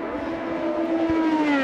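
An Indy race car engine screams at full throttle at the Indianapolis 500, a loud steady high-pitched howl with rising harmonic tones sustained throughout, no voices.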